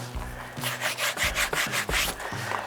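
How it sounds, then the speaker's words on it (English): Coarse salt rubbed by hand into the skin of a raw pork belly before smoking, heard as a steady run of close, scratchy rubbing strokes in a regular back-and-forth rhythm. "We're going to rub quite a bit of salt"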